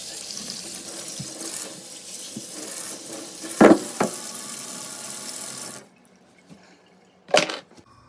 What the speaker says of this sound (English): let's wash all the carrots.